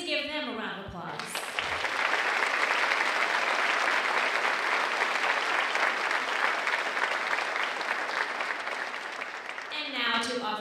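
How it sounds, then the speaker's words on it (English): Audience applause at a St. Louis Metropolitan Police Department badge ceremony for new officers, a dense, steady roar of many hands lasting most of the stretch, with a voice speaking briefly before it swells and again as it fades. "Please give them a round of applause."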